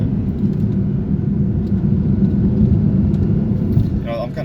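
An Audi R8 V10 Plus engine accelerates with a deep, steady rumbling roar inside the car, loud and continuous, with a brief voice near the end.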